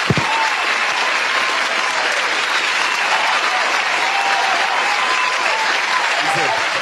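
An audience bursts into loud, sustained applause, dense clapping that holds steady for several seconds at close range.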